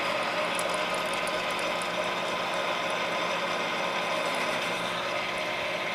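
A metal lathe running at 460 RPM faces a part, giving a continuous mechanical whir with gear chatter and faint ticking throughout.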